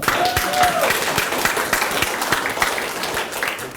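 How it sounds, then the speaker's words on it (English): Audience members at a West Virginia public meeting on water resources break into loud, steady applause, with distinct claps close by over a continuous crowd wash and a faint tonal sound early on. "Can I get a hand clap?"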